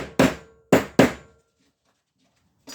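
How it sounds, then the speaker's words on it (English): Three sharp hammer taps knock metal burrs flat on a DIY powder-coating oven part, loud and close, the last two in quick succession, followed by quiet and a faint final knock. "Just gonna give them a tap"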